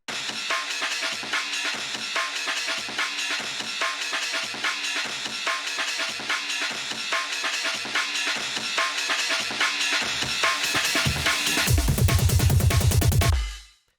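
Chopped drum break loop with effects for an indie game track, a steady fast breakbeat of punchy hits running throughout, loud and alone, building denser near the end with a deep bass swell before cutting off.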